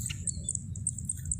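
Java sparrows (gelatik) chirp repeatedly in a rice-field netting spot, giving short, bright tweets in a steady series over low rumbling background noise, with no talking.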